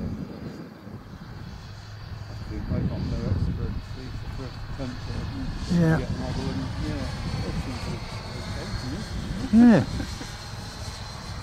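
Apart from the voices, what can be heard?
HobbyKing Vampire model jet plane flying on six cells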